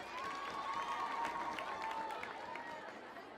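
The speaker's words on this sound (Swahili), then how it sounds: "Makofi." A crowd claps and murmurs at a county fundraising gathering in Isiolo, moderately distant and fairly quiet, with a sustained tone and mixed voices running underneath the applause.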